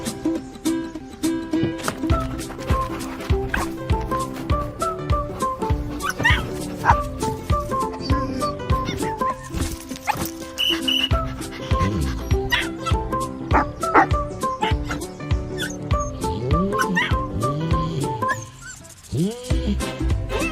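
Dogs bark, yip and whimper throughout a Subaru Ascent 3-row SUV commercial, repeated canine calls layered over steady music that runs the whole way.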